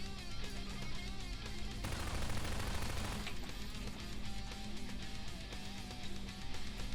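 Gunfire in Garry's Mod (GMOD) as a character is shot against a wall: a steady, dense stream of rapid shots that grows briefly louder and harsher midway, loud and continuous throughout.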